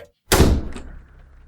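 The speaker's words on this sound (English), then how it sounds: "I heard a door open beyond the entryway." A door sounds in a horror audio drama set in a manor house: one sudden, loud, close thunk after a brief silence, trailing off in a fading resonance.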